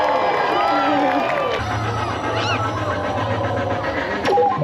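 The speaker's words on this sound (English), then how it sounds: "Let's cheer for that." A crowd cheers and shouts at a LEGOLAND Florida holiday tree lighting with the Space Gal on stage, a loud continuous roar of voices and whoops with a low steady hum running underneath.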